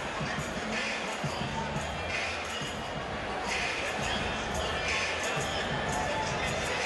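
Big boxing-arena crowd murmuring and roaring steadily at Freedom Hall in Louisville, Kentucky, ahead of a Mike Tyson main event, a dense continuous wash of voices without distinct cheers.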